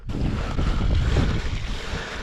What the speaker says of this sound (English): It sounds like it's moving a little bit of water.